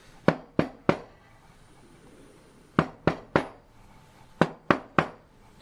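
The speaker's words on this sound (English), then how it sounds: "And bang down your foamy bubbles." Three sharp bangs, a pause, then three more, and another three, each a hard knock of a frothed-milk pitcher on an espresso machine counter, close and loud.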